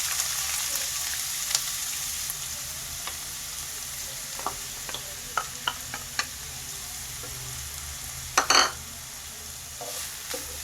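Chopped onions fry in oil with cumin seeds and asafoetida for an aloo palak dish. A soft, continuous sizzle is broken by a few sharp clinks and scrapes of a spoon stirring the pan.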